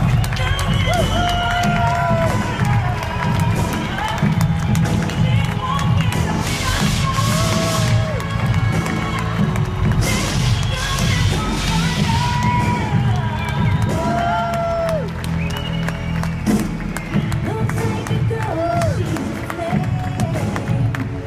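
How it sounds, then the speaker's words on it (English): A crowd at a live corporate event in London cheers and applauds loudly and without a break, with shouts and chanting over the noise. "Applause, please."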